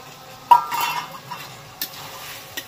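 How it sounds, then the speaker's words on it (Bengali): Banana stem, rice and fried prawns are stirred in a pan, with a few sharp clinks of a utensil against the metal over a faint sizzle. "এটাকে ভালো করে আগে থোড়ের সাথে কষিয়ে নিই"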